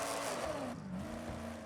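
A car in Forza Horizon 6 launching down a quarter-mile drag strip, its engine roaring steadily and pitching up as it accelerates, loud and continuous with a possible hint of tire spin.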